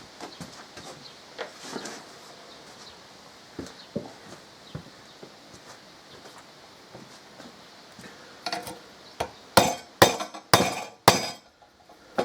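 Hammer striking a 2014 Harley Davidson Electra Glide exhaust with its catalytic converter, scattered metallic taps that build into a run of loud, sharp clanging blows near the end.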